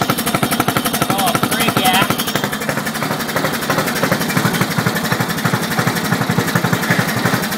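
A Briggs & Stratton 12 hp engine idles low and steady, its rapid even chugging loud and close throughout.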